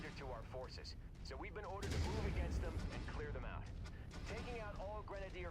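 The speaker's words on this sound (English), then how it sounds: "Someone keeps firing guns into its face." Rapid mech weapon fire in the MechWarrior 5 video game, a dense barrage of booming gunshots that grows louder midway and continues steadily, with a voice talking over the battle.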